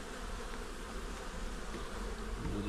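Dense, steady buzzing of a honeybee colony inside an open hive during an inspection, a continuous droning hum that stays close and even throughout.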